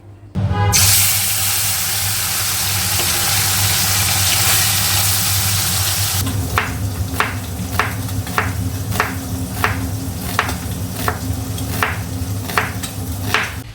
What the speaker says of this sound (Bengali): তার আগে মাছটা ভাজা বসিয়ে দিই